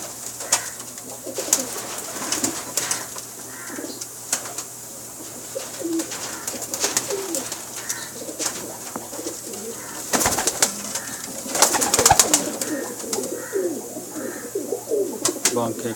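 A large Teddy-cross female pigeon and Bankay-cross Pakistani pigeons coo in soft, repeated phrases nearby, with a few sharp flutters and a faint voice in the background.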